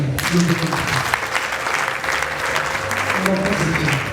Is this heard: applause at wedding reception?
yes